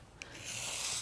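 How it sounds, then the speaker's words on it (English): A metal woodcarving chisel is rubbed against a sharpening surface, its underside being worn flat, making a faint, steady scraping rasp after a brief click near the start. "I'm wearing away that metal on the underside"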